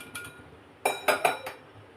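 A small kadai pan is set on a stove in a village kitchen, giving a few sharp metallic clinks and clatters in quick succession over quiet background.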